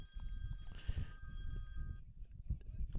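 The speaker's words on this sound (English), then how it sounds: "That was my phone ringing." A mobile phone rings faintly with steady tonal beeps through the first two seconds, under low broadcast talk and background noise from a high school varsity baseball game between the Elsberry Indians and the Orchard Farm Eagles.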